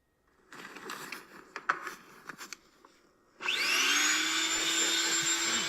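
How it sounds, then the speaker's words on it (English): Vacuum cleaner heard through a phone's butt-dialed call recording, starting after some knocking and rustling, then a loud steady roar with a rising whine as the motor spins up. "So it's me working and I'm vacuuming."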